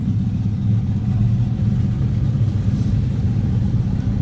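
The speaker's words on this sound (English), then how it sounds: "there's your heavily modified G-body Malibu" A heavily modified G-body Malibu drag car idles nearby at an outdoor car cruise, its deep engine rumble steady and throaty for a few seconds, with no voices.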